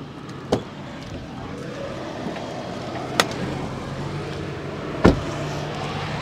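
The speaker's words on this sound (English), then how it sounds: "Okay, old school bonnet open." On a 2024 MG4 64 kWh Essence electric car, the bonnet release and prop strut produce three sharp separate clunks and clicks over a quiet background hum.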